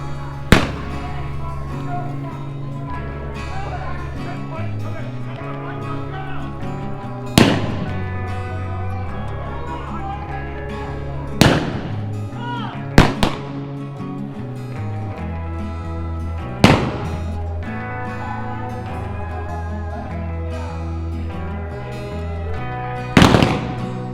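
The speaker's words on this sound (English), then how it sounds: "Just be sure to keep your head down when the bullets start to fly." Staged Wild West gunfight on Allen Street in Tombstone, Arizona: six sharp, loud gunshots fired at irregular intervals over about 24 seconds, one pair in quick succession, above steady outdoor crowd noise and background music.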